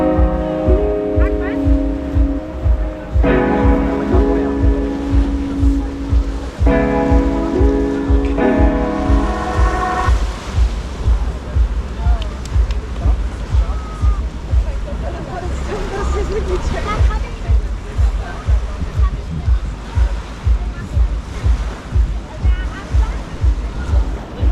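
Sea waves wash onto Madiha beach in Matara, a continuous broad surf roar with wind, loud and steady throughout, while layered tonal sounds and faint distant voices sit over it in the first ten seconds.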